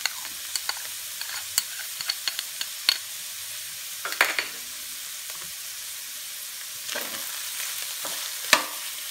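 Onion and garlic sauté in a pan for spaghetti with a steady hissing sizzle, broken by frequent sharp spatula taps and stirring scrapes, close and clear with no talk.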